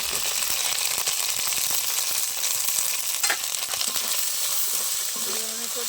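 Asafoetida, ginger-chili paste and chopped tomato fry in a pan, a dense close sizzle with stirring scrapes, steady throughout and briefly joined by a voice at the end.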